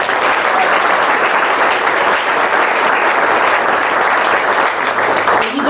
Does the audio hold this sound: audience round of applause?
yes